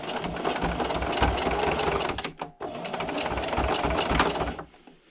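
A sewing machine stitching a fabric hair scrunchie runs in a fast, steady mechanical whir up close, breaks off briefly midway, then resumes before stopping near the end.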